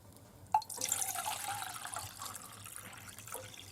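Water pours into a mug while camping in a cabin on a snowmobile trip, starting with a sharp clink and then a steady trickling splash that goes on at moderate volume.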